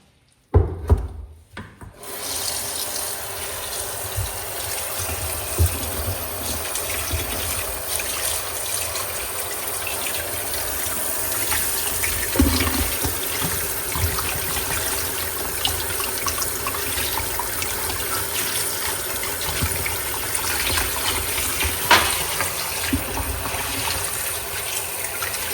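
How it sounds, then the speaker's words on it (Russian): Boiled pork trotters being rinsed under running water after the first broth is drained, a steady close gush and splash with rubbing and scraping as each trotter is washed, continuous throughout with no talk. "Теперь мы должны слить этот бульон и промыть каждую ножку."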